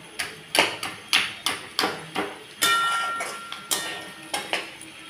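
A spoon knocks and scrapes against a pan as potatoes and a fish head are stirred and broken up for a Bengali curry, giving about a dozen sharp, evenly spaced clanks close by.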